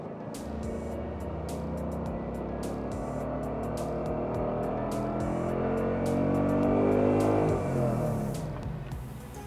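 A car engine idles, then rises slowly and smoothly through its rev range as the accelerator is gradually pressed, climbing steadily in pitch before easing back, loud and close with a few clicks over it.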